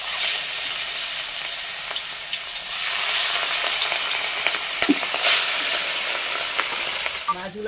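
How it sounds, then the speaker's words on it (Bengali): Pieces of rui fish fry in hot oil in a pan, a loud continuous sizzle and bubbling hiss with occasional spatters and pops, close and steady throughout. "মাছগুলোকে দেখো একদম কড়া করে ভেজে নিয়েছি"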